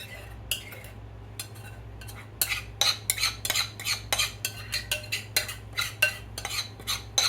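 A metal spoon scrapes leftover cornbread, ham and pinto beans from a dish in quick, repeated scraping strokes that clink against the dish, close and clear with no talking.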